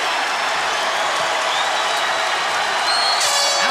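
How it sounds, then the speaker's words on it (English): A UFC fight crowd in Las Vegas cheers and applauds in a dense, continuous wash of clapping and roaring, with whistles cutting through near the end. "Stand and cheer, ladies and gentlemen."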